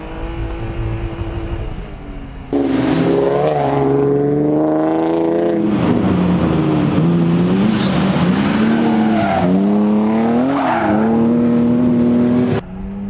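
A BMW E36 M3 slicktop engine revs hard and bounces against its rev limiter, loud and close, with rising and falling sweeps over about ten seconds and a hint of tire squeal.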